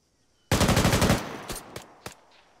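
Arma 3 gunfire opens with a loud, close rapid automatic burst of about ten rounds, followed by a few sharper single shots echoing in the distance.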